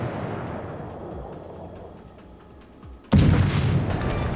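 Cruiser guns in World of Warships, a tier 3 Japanese Katori, fire in one sudden loud boom near the end of a low rumbling background, with the roar lingering afterward.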